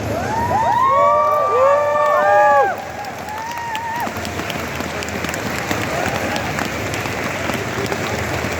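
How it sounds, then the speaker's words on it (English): Audience at a cosplay show at MCM London Comic Con applauding loudly with cheers and whistles, strong dense clapping that drops to a steadier, softer applause midway and carries on. "give a massive round of applause for every single one of our cosplayers"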